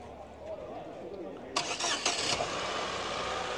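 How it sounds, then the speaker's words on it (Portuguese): A flex-fuel 1.4 car engine cranks with a short burst of starter whirring, then catches and settles into a steady running idle, with a person talking throughout. "o Eduardo vai dar partida aqui no motor para vocês escutarem aqui junto com a gente."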